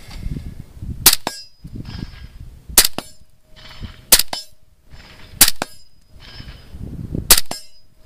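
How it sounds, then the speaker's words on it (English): Five sharp gunshots ring out one at a time at a steady pace, each a loud crack with a short ringing tail, while a low background rumble sits between the shots. "Go ahead and give me 5 good shots."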